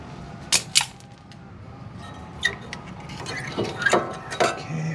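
A brake caliper and its spring are removed from a 2006 Nissan Frontier, giving scattered metallic clicks and clanks against a quiet background, close by.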